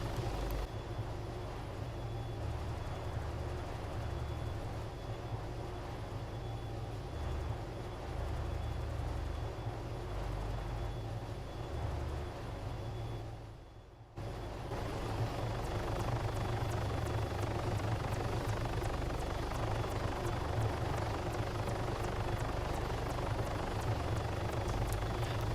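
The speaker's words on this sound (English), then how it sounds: "I just took a helicopter and flew a bit around" Helicopter in the Arma 3 video game flying over varied terrain, a steady close rotor and engine drone that holds throughout with one brief dip midway.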